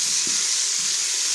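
Chopped tomatoes land in a pan of frying garlic and ginger paste, giving a constant bright sizzle with faint stirring bumps underneath, close and unbroken throughout.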